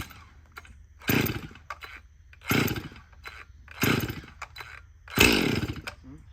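A Stihl M-Tronic chainsaw, converted to a true off switch, is pulled over and over: four loud, separate bursts of engine sputter about a second apart, with quieter gaps between them and no steady running.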